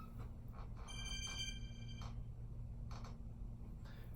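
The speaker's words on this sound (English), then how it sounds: "sorry, my phone's ringing." A phone rings at low volume with short trilling bursts, ticking clicks between them and a steady low hum underneath.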